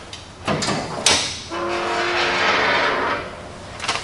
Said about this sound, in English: open up the hood and show you the engine there